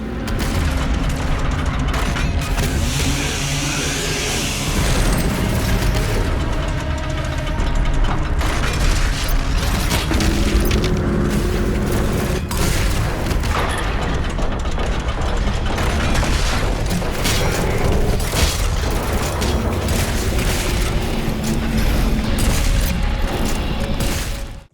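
Shotgun fire in the video game DOOM Eternal comes as dense, loud blasts, repeated reload clanks and other mechanical clatter over a continuous intense game soundscape, with no talking.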